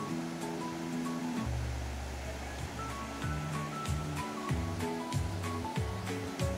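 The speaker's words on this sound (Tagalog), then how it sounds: "Ayun, kita ko na yung batis, oh." Cold mountain stream at a resort in Nagcarlan, Laguna, rushing steadily as a dense broadband wash, with a low rumbling undertone and scattered watery splashes, heard up close.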